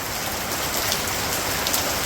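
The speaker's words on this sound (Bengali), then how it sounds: "দেখছেন কি পরিমাণে বৃষ্টি নামছে" Steady, dense rain pours down with a constant hiss of drops hitting surfaces, loud and unbroken throughout.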